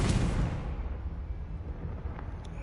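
A Confringo spell explodes in the Hogwarts Legacy video game, a loud broadband blast at onset with a rumbling low tail that slowly fades over a couple of seconds, with no voices over it.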